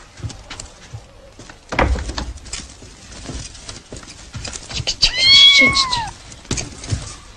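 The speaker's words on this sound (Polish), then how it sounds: "Wszędzie te koty nosisz ze sobą." Cats meow near the close, with a rising and falling meow standing out over scattered thumps and rustling handling noise.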